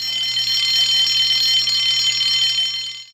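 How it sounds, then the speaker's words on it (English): An alarm rings in a loud, continuous high-pitched electronic tone that holds steady for about three seconds before cutting off abruptly. "Soon came the alarm."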